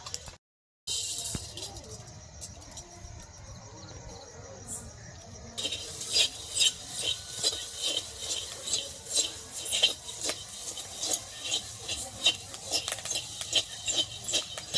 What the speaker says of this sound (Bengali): এটা তাহলে 1080 ধানের খই ভাজছো?